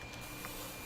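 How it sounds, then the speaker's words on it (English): Office printer running steadily close by, a continuous mechanical whir with faint brief clicks, level and unbroken throughout. "Again, sorry for the printer noise."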